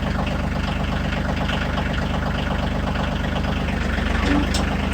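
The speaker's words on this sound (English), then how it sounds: "So we have a 24 horse tractor." A 24-horsepower compact tractor diesel engine idles steadily up close, a constant low rhythmic chugging that stays even throughout with no voices.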